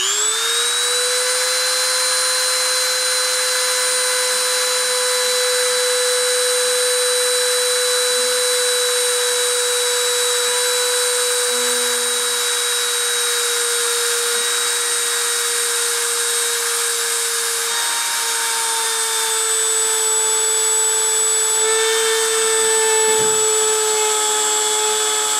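Spindle spun at 30,000 RPM during a deposition process gives off a loud, steady high-pitched whine with layered tonal hum, holding constant throughout with only slight shifts in pitch near the end.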